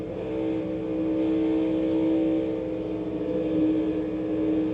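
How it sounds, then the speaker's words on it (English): A NASCAR stock car engine at Kansas revs and drones with sustained harmonic pitch that rises and falls as the driver modulates the throttle, loud and continuous with no talking. "really hear him pedaling that car"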